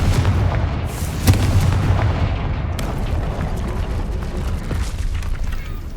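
Fiery Confringo blast spells explode during combat in Hogwarts Legacy, with booming bursts over a constant roar of battle noise, loud and close with no talk.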